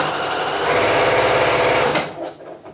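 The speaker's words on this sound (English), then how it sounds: "I'm just gonna stitch right across this seam allowance." A sewing machine stitches straight across a fabric seam allowance, running in a fast, steady close-up whir for about two seconds before stopping, leaving a few faint handling clicks.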